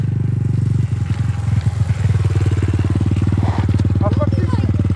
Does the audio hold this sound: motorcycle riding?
yes